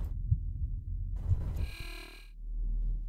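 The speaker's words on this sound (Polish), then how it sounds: "Słyszałem bicie serca" A heavy heartbeat throbs low in the Observer video game, slow pulses under a droning hum, interrupted by a brief bright burst of electronic noise before the low thumping returns.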